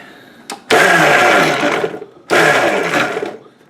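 A Cosori Pro blender whirs loudly in two bursts while making salsa, each about one to two seconds long, with a brief pause between them.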